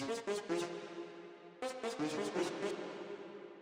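A resampled, pitched-down audio chop plays musical stabs in bursts, then a pause, then more, each note trailing off into a wash of added reverb.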